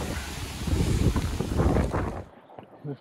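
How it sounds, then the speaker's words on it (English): Heavy gusting storm wind buffets the microphone beside a motorhome in Southwold with a loud, rumbling roar that swells and then cuts off abruptly, leaving a faint quieter tail. "We stayed in the motorhome while the storm raged around us."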